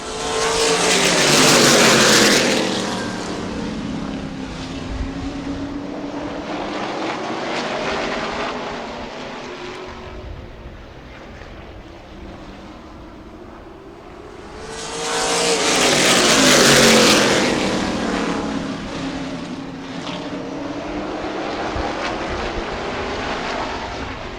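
Limited late model race cars roar around the track after the green flag, the engine howl swelling loudly as the pack passes close, fading to a steady drone, then surging past again.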